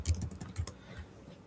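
Quick bursts of keystrokes on a computer keyboard while a promo code is typed into a browser tab, crisp close clicks in a short irregular run that thins out toward the end, with no voices.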